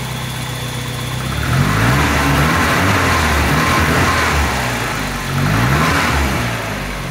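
A Saab car engine fitted with a DI-88 ignition system runs steadily nearby, with two swells of revving over a mid-pitched idle and no talk.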